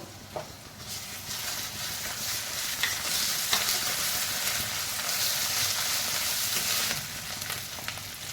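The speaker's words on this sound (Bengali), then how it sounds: "এখানে আমার পেঁয়াজ রসুনটা ভালোভাবে ভাজা হয়ে গেছে আমি এরপরে আদা বাটাটা দিয়ে দেবো" Onion and garlic sizzle steadily in a hot pan as they fry, a continuous hissing crackle with occasional stirring scrapes and no talking.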